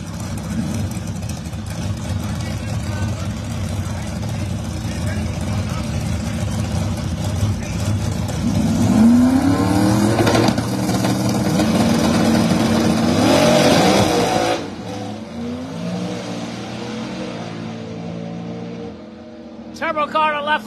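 Drag racing cars, one of them turbocharged, roar down a street-car drag strip at Darlington Dragway, a sustained loud engine drone that surges and then fades. An announcer's voice talks over the cars throughout.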